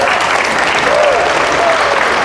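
A worship congregation applauds together, a loud, dense, steady wash of clapping that holds evenly from start to finish with faint voices mixed in.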